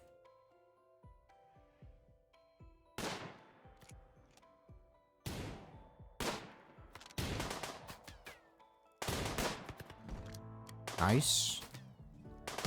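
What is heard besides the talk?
gunshots from the video game RimWorld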